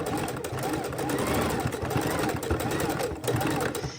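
A sewing machine stitches a raw-edge appliqué, its needle running in a fast, continuous mechanical whir close by, heard under a person talking.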